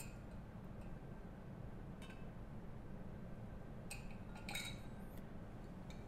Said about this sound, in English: We will have to remove the magnetic stirring bar.